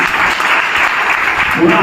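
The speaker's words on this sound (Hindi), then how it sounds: "जोरदार तालियां" Loud, sustained applause from an audience at a Rashtra Uday Party review meeting in Lucknow, with dense clapping that carries steadily through the whole stretch.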